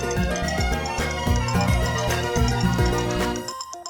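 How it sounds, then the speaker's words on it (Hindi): A mobile phone ringtone plays a bright repeating melodic tune, loud and close, with steady rhythmic notes for several seconds before it cuts off. "बंटी भैया का फोन"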